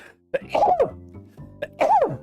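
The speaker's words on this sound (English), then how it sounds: "I'm about to sneeze, by the way." Two sharp, close bursts, a sneeze-like gasp followed by a second explosive sneeze, with a brief quiet pause between.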